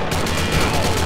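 Rapid gunfire from a hard-to-control weapon in a video game, a dense, loud burst of continuous automatic shots packed tightly over about a second, with no pauses between rounds.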